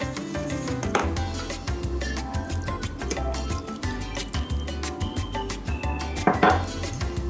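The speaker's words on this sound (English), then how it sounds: "Mix the dough with a wooden spoon first." Clinking kitchen sounds as cheese roll dough with melted butter and milk is stirred with a wooden spoon in a bowl, a steady close run of knocks and scrapes lasting throughout with no talking.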